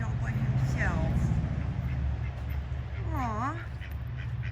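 Ducks quack at a backyard duck house, two or three nasal calls standing out over steady outdoor background noise, with a person talking nearby.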